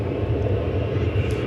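An American Airlines Airbus A321 takes off from runway 18 left at DFW Airport, its engines a loud, continuous low roar in a brief burst.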